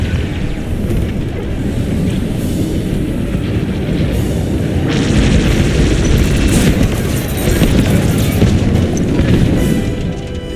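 Loud, continuous booming explosions in the space-combat game Star Wars Squadrons as bombers are destroyed, a dense rumbling roar with bursts of crackle that swell near the middle and again toward the end.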